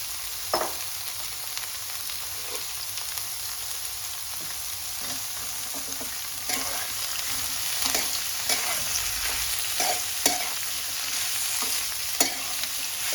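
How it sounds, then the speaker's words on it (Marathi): Chopped snake gourd stir-fried in hot oil sizzles quietly and continuously, while a spatula scrapes and taps against the pan at irregular intervals. "जे चिरलेलं पडवळ आहे ते टाकून द्यायचं आपण यामध्ये त्याला तर अगदी व्यवस्थित असं तेलामध्ये आपण परतून घ्यायचं आहे"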